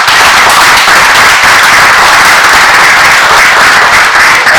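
On the island of Nevis, a crowd applauds the former Premier at the opening of a new treasury building. The clapping is loud, dense and continuous, close and unbroken, with no voices heard.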